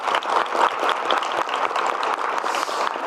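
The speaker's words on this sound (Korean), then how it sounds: "우리 지사님 박수 한번 부탁드립니다" A crowd gives warm applause for the governor of South Gyeongsang Province at a public gathering, a continuous, lively wash of many hands clapping at close range with no talk over it.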